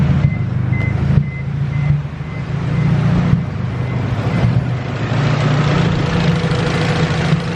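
A turbocharged GSR engine in an EF sedan runs at a steady idle after being cranked, a continuous low rumble close by with a faint repeating beep early on and minor fluctuations in the engine note.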